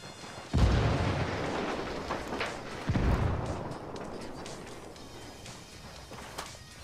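A frag grenade going off in a video game: two deep booming blasts about two seconds apart, each trailing into a long rumbling decay with scattered crackle and debris.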